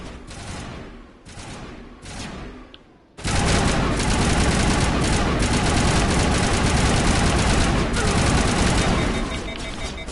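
Sustained gunfire rattles through a Mass Effect firefight, beginning with a few short bursts and gaps before giving way to a loud, unbroken stream of rapid shots and impacts.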